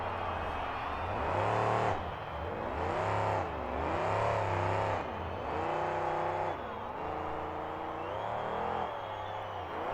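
A monster truck engine at a 2005 KORR Monsters show in New Orleans revs loudly and steadily, rising and falling in several surges, with a deep harmonic growl and no talk over it.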